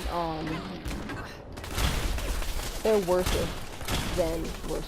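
Gunners attacking in Fallout 4, with continuous loud bursts of gunfire and thumping impacts under intermittent speech.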